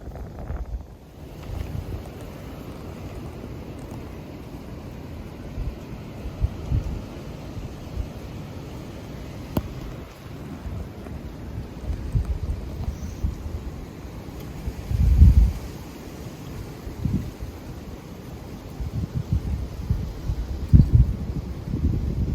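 Wind buffets the microphone in low, uneven gusts for the whole stretch on a cold day out deer hunting, rising into a few stronger rumbling blasts, with no voices.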